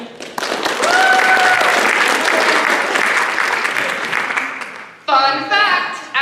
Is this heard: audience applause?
yes